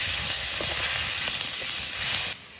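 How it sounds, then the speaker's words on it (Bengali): Tomatoes and slit green chillies hitting a hot pan of fried potatoes and spices for rui fish curry with cauliflower, a loud, steady close sizzle and hiss that cuts off abruptly. "এখন দিয়ে দেবো টমেটো আর লঙ্কা চিরা।"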